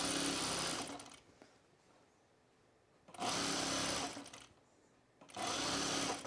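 A sewing machine stitches the center back seam of a Sylvan jacket in three close, steady runs of one to two seconds, with quieter pauses between them.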